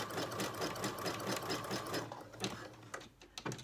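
A sewing machine stitches swimwear elastic onto fabric in a steady, fast mechanical whir, with quick runs and short pauses near the end and no voices.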